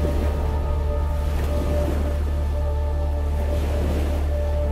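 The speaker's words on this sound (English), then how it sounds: "or the ocean surf." Ocean surf setting on a Sleep Sheep baby soother: a continuous rushing wash of waves with a deep rumble underneath, steady and fairly loud, without voices.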